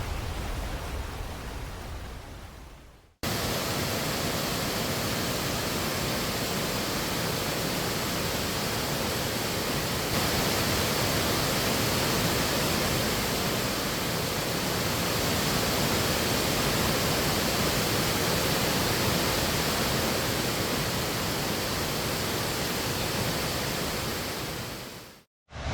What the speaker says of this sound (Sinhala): ඔයාලට පේනවා දැන් අතන පහලින් ලස්සන ඇල්ලක් තියෙනවා